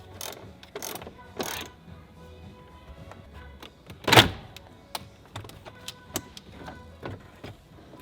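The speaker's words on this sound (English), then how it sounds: "there are 4 screws in here that I'm going to go ahead and remove." Screws being removed from the stereo panel of a Toyota Highlander, a sparse run of quiet ticks, clicks and small rattles at close range, with one sharper, louder click standing out midway.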